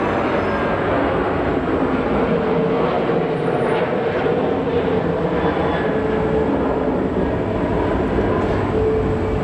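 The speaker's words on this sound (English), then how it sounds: "United tends to use up most of their runway here at Phoenix." A United airliner rolls on the runway at Phoenix Sky Harbor Airport, a loud, sustained engine roar and rumble that holds steady throughout without speech.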